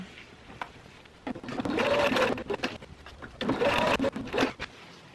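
A sewing machine stitches the boxed corners of a DIY bench cushion in two separate bursts of rapid whirring, close and fairly loud, with quiet pauses between.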